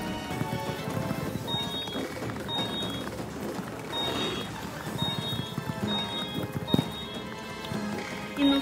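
Hooves clip-clop steadily and quickly as a horse gallops through a race in the video game Star Stable Online, under a continuous layer of game music and ambience.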